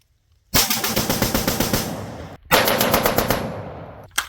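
BRN-180 rifle, an AR-180-style upper, firing loud rapid shots in two close bursts separated by a brief pause, then stopping.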